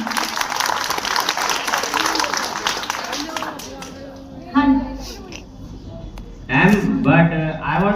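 Loud applause from a crowd at a school farewell party for the 2025–2026 batch fills the first few seconds, then fades as voices and speech take over.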